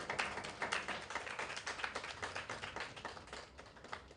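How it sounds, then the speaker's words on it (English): Audience at a physical activity symposium applauds to welcome a speaker: quiet, thin clapping from a modest crowd, steady and somewhat distant throughout. "Please let's welcome him with a round of applause."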